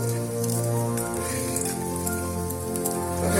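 Data shak greens fry in a pan in a steady, soft sizzle and crackle under a continuous low hum, with no talking.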